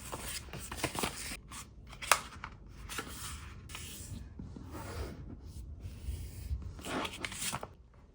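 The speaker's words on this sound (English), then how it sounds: "First thing you're going to do with your sheet of paper is to fold it into quarters." A sheet of paper being folded into quarters, with soft crinkling, rubbing and sharp creasing sounds in irregular bursts, close and quiet with no talk.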